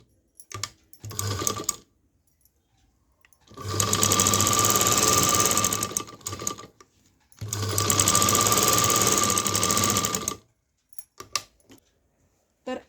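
A sewing machine stitching fabric in two long, loud, even runs of rapid mechanical whirring, separated by pauses with small clicks and handling noises.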